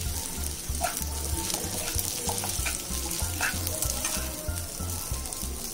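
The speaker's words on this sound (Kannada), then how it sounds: "ಲೋ ಫ್ಲೇಮ್ ಮಾಡಿಬಿಟ್ಟು ಮಿಕ್ಸ್ ಮಾಡ್ಕೋಬೇಕು ಚೆನ್ನಾಗಿ." Pearl millet vermicelli upma sizzles in a pan on a low flame as it is stirred. Steady frying crackle runs throughout, with soft repeated scraping strokes of the spoon and no voices.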